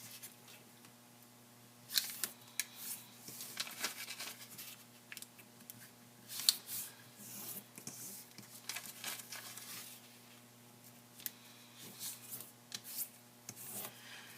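Origami paper rustles and crinkles as its corners are folded in toward the center, a string of faint close scrapes and light taps under a steady low hum.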